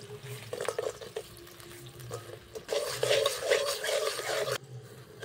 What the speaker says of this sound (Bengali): এইভাবে আমি নাড়তে থাকবো, তাহলে মিশে যাবে।